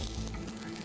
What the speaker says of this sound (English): Sizzling straight away.